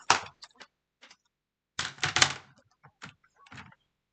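Cardstock being trimmed for card making: sharp separate clicks and slicing strokes, near and fairly loud, with quiet gaps between them and a denser cluster near the middle.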